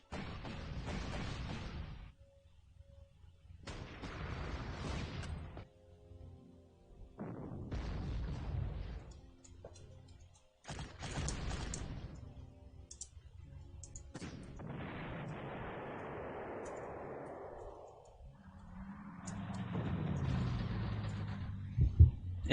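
Artillery fire in the wartime strategy game Panzer Corps: a series of heavy booming blasts, each rumbling for a second or two, spaced out across the stretch, with one long rolling explosion near the end.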